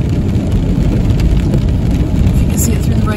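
Rain falling on a town street at night in Gatlinburg, Tennessee, a steady dense patter mixed with passing car noise and faint voices in the background.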